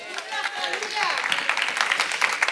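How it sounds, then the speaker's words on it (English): A church congregation claps hands in praise, a loose scatter of applause that builds and thickens over a couple of seconds with voices mixed in. "Give God a hand clap of praise."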